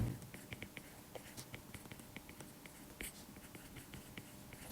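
Chemistry equations being written by hand on a board or paper, a faint close series of quick tapping and scratching strokes in an uneven rhythm, with no talking.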